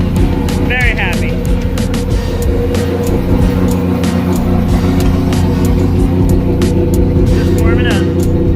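A turbocharged 3-rotor Mazda RX-8 drift car idles loudly and steadily during warm-up, with a dense, unbroken engine drone, close by, and voices talking over it.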